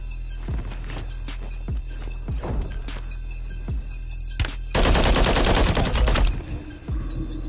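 Gunfire in the video game Warzone: a series of sharp single shots, then a loud sustained burst of rapid automatic fire, close and clear with no talk over it.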